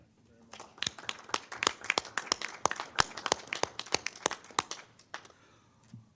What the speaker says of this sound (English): I would ask that you join me in giving David Nat a round of applause